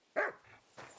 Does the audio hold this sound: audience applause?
no